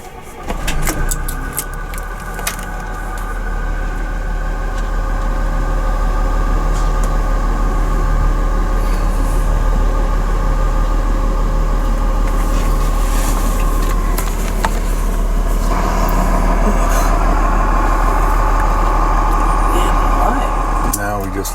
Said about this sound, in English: just let the air tanks fill so we have brakes and air suspension, and we are ready to roll